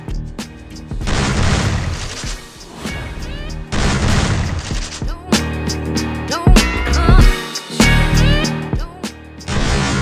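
In the game Free Fire, M1887 lever-action shotguns fire repeatedly in loud, booming blasts with crisp mechanical cycling between shots, over an energetic game soundtrack.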